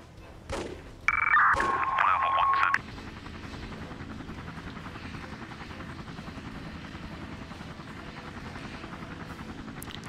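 A helicopter in the emergency-services game Emergency 4 drones steadily with a rotor flutter for about ten seconds, loud and close, with a short bright electronic tone sounding over it near the start.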